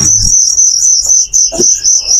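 Fighting crickets kept in a collection for sale chirp loudly and close by, producing a continuous shrill, pulsing trill with a few faint knocks underneath.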